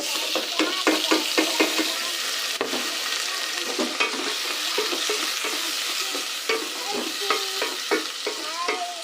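Onions browning with tomatoes in a pan for fried cabbage sizzle and crackle steadily up close, with stirring scrapes and clatter running through the whole stretch.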